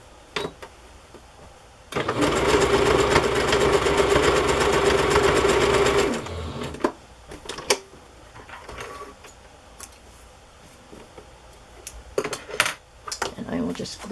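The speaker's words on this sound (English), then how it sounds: "I'm just going to sew it together." A sewing machine stitches Christmas fabric in a rapid, steady burst of about four seconds. Scattered handling clicks and rustles follow in a quiet room.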